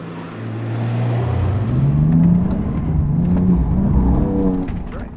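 A BMW F82 M4 driving on a race track, its engine rising and falling in pitch as it accelerates and shifts, a steady close roar that swells and eases over several seconds.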